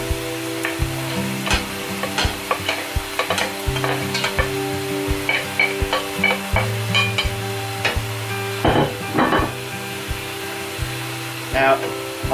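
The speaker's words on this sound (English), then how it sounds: "Next thing we're going to do is add the rest of the veg." Chopped vegetables go into a hot frying pan for a Cornish pasty filling and are stirred, with loud sizzling and frying, repeated scraping and clacking of a utensil against the pan, and occasional louder knocks.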